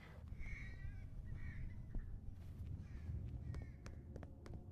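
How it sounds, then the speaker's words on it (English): Eerie bird-like cries in a video game, Scholar Adventure: Mystery of Silence, repeating as several high, wavering calls over a steady low ambient rumble, with no talking. "Kind of a creepy noise. I mean, it sounded like birds, but there are no birds"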